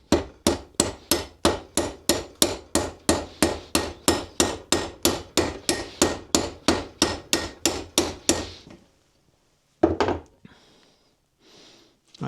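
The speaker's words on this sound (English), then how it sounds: "So now we'll switch to a slightly smaller hammer." Rapid, evenly spaced hammer blows ring out close and sharp, swelling a rivet on a Massey Ferguson tractor levelling box during a vintage rebuild, then stop, followed by a few softer knocks and handling sounds.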